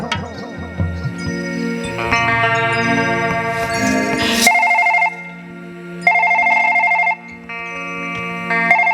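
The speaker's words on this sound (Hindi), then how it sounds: "अरे फोन उठा ले संध्या, फोन तो उठा यार" A telephone rings in repeated electronic bursts with short pauses between them, loud and close, during a Chhattisgarhi Nacha folk theatre performance, following a stretch of busier tonal music-like sound.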